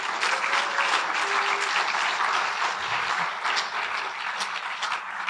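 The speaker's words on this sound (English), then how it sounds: "Guys, give her a warm round of applause" An audience at a Pre Send Jesus Rally at Harvest applauds as speaker Jennifer Cromwell is welcomed up, with steady, dense clapping filling the room at an even level throughout.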